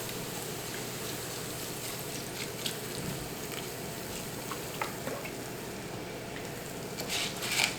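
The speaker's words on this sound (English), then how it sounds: "we're going to add some more veggie broth" Veggie broth poured into a hot pan of plant-based pea crumbles, giving a steady sizzling, bubbling hiss with faint splashes throughout and a louder spatter near the end; no one speaks.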